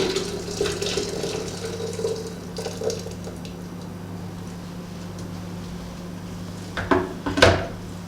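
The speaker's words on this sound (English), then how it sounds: "I have measured almost 7 deciliters of water here, and it's boiling, and I put them over the tea." Boiling water is poured over tea leaves for kombucha, a soft liquid trickle and splash near the start, then quiet, ending with a couple of clinking kitchen knocks.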